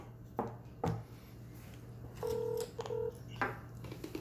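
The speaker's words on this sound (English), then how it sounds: "we're going to give him a call" Telephone keypad tones sound as a call is placed, a few short clear beeps in quick succession over a low steady hum, close and alone without talk.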